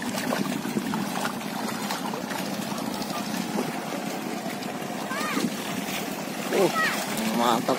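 A motorboat runs steadily on water near a crowd netting fish at a fish party, a continuous engine drone with splashing, while people talk and shout over it.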